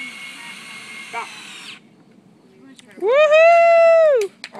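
A power drill drives a screw into the last deck board, first a quieter whirr, then a loud, close whine held for about a second before cutting off.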